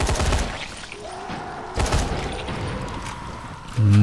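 Rifle gunfire in the zombie game Dying Light, a rapid volley of shots at the start and another burst near the middle, over a steady game background, then a loud low thump at the end.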